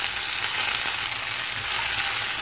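Grated coconut fries in a pan for mint chutney, giving a steady, close hiss of sizzling oil with faint stirring scrapes underneath.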